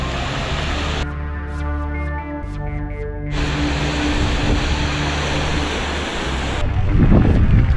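Strong wind roars steadily across a mountain trail on an enduro mountain-bike ride, loud and continuous gusting noise buffeting the microphone, with a brief tonal hum early on.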